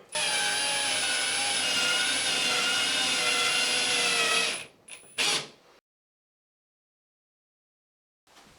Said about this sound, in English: inserting a screw at the other side. I can then drive that home